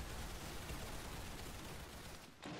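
Rapid gunfire from a hog gun in a video game rattles as a dense, continuous burst, fairly faint and noisy throughout before breaking off near the end.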